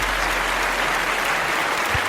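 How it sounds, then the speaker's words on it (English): Audience applause at a live comedy show, a dense, steady wash of clapping that holds at an even loudness throughout with no talk over it. "Let's get a round of applause."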